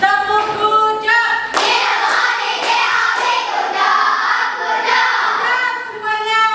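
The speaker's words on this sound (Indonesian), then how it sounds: "Tepuk lagi yuk." A group of schoolchildren claps together in a classroom, a loud patterned chant-clap with bursts and shouted voices mixed in.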